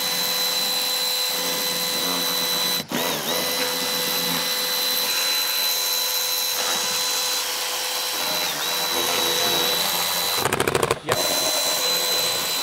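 A power tool runs steadily while removing 10 mm and Torx bolts from the front bumper cover of a Ferrari 458. Its close, continuous whirring whine dips briefly twice and ends with a short, rattly burst. No voices.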